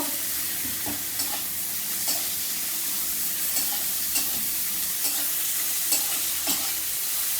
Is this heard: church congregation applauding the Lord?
no